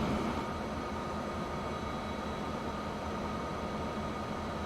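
A train rolls past in the railway game Transport Fever 2, a steady, dense rumble holding constant and moderately loud with no voices over it.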